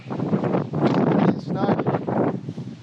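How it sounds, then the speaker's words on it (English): Strong wind of about 40 mph buffets across a wintry mountain ridge, loud gusty roaring bursts that rise and fall in quick surges against the microphone, close and continuous. "About 40-mile-an-hour wind."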